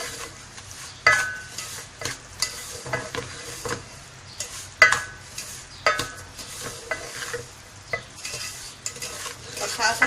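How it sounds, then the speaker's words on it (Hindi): Semolina roasting in ghee in a pan for sooji katli halwa, heard as a soft, low sizzle under frequent scraping and clinking stirring strokes at close range, with no speech. "अब इसमें हम घी ऐड कर रहे हैं। डालने के बाद हमें अच्छे से इसकी भुनाई करनी है।"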